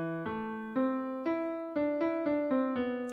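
A short synthesized melody from an original music composition: eight sustained, evenly struck notes stepping through a simple tune, clean and alone.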